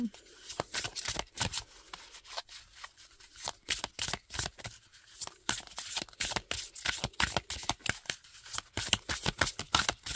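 Oracle cards are shuffled and cut in a quick rhythmic series of crisp riffling slaps and flutters, close up, with no talk.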